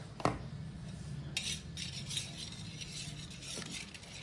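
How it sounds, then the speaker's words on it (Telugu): A spoon stirs yogurt with salt, chilli powder and turmeric in a bowl for a brinjal yogurt rasam, giving a few quiet clinks against the bowl and soft scraping, with no talking. "ఈ పెరుగులండి, పసుపు, ఇదిగోండి పసుపు వేసి బాగా కలిపి పెట్టుకోవాలి పక్కన"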